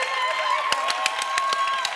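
Scattered claps and crowd cheering ring out over a sustained tone, a brief burst of applause lasting a couple of seconds.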